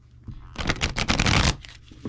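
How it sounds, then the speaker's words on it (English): A tarot card deck is riffle-shuffled once, a dense, crisp flutter of cards lasting about a second, close and fairly loud. "So it shuffles like a dream, and I really enjoy it."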